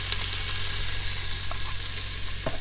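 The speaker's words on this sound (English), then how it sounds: "So let's get our onions in. I've already put some ghee in there and it's been heating up on saute mode." Purple onion dropped into hot ghee in an Instant Pot on saute mode, a dense, even sizzle with a low steady hum beneath and a few faint stirring clicks, no voices.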